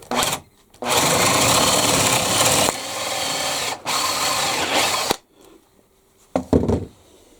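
Spade flat drill bit boring through a clamped piece of wood, heard as two long loud bursts of grinding drilling separated by short pauses, then a couple of brief quieter spurts as the bit breaks through.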